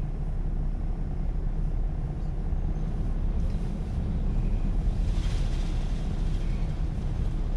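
High-pressure water sprays steadily onto a car at a car wash, a loud, continuous rushing hiss that stays close and constant throughout with no break.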